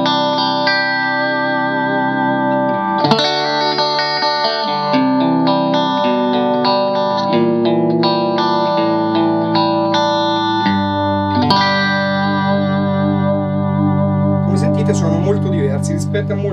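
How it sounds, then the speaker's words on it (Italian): A Masotti M1 electric guitar on combined middle and bridge pickups plays flowing chords and melodic phrases, clean, bright and slightly hollow, notes ringing into each other with a watery chorus sheen. "Ora ascoltiamola con la combinazione di pick-up centrale più ponte."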